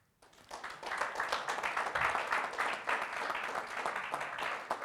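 An audience at a panel discussion on energy in Africa breaks into applause for the panelists, clapping swelling quickly and holding steady at a moderate level, with no speech over it.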